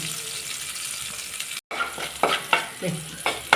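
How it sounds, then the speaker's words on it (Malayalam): Onion and green chillies sautéing in a pan, a constant close frying hiss broken by a brief dropout, then several sharp stirring scrapes in quick succession, no talk. "ഉള്ളി പച്ചമുളകും നല്ലോണം വഴന്നു തന്നെ"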